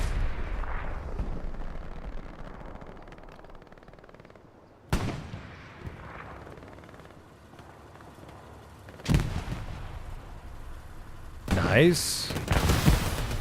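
Long-range rocket explosions in Hell Let Loose on the Foy battlefield, with three sharp, loud blasts spaced several seconds apart, each booming and decaying over distant gunfire; a voice speaks briefly.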